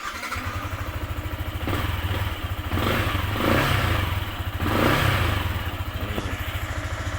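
A Yamaha Exciter 155 VVA motorcycle from 2021 idles with a steady, close putter, then revs up in two rising surges before settling back to idle.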